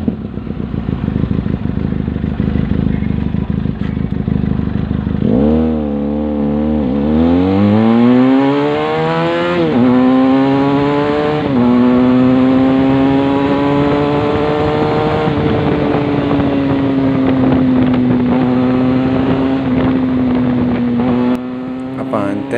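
A Benelli TRK502 motorcycle pulls hard on a highway, engine pitch climbing in several rising sweeps as it shifts up through the gears, loud and close with a rough, buzzing exhaust note.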